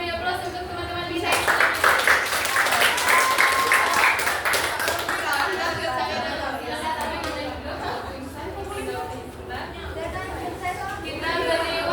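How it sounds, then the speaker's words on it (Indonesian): Classmates in a high school classroom give a round of applause that rises quickly and stays loud for several seconds before thinning into scattered claps under ongoing chatter and talking. "kita beri aplaus untuk teman-teman bisa"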